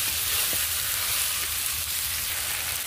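Chopped potatoes fry in a pan with cooked spice paste, giving a dense continuous hiss of sizzling with faint stirring knocks underneath, and no voices.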